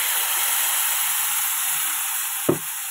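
Okra frying in a hot pan with a ground mustard and chili paste, giving a steady, close, even sizzle throughout, with a short thud and louder burst of spitting near the end as the paste goes in.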